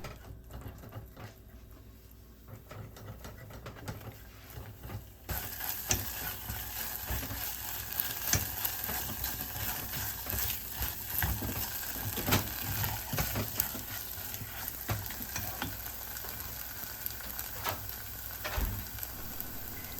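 Choux pastry dough stirred in a pot, a steady run of scraping, clacking utensil strokes over a faint sizzle, quiet at first and growing busier.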